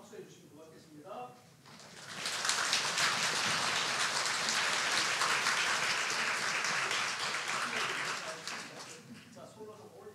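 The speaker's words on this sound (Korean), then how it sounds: "같이 한다는 마음으로 박수해 주시면 고맙겠습니다." A congregation applauding at a New Year's Eve church service, a broad wash of clapping that swells after a short spoken line, holds steady for several seconds, then tapers as a voice returns.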